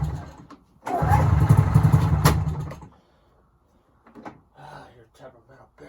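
A 1997 Yamaha Vmax XTC 600 snowmobile engine cranks and briefly catches on full choke, a close, rough two-second burst that dies into near silence, followed by faint sputters and someone talking.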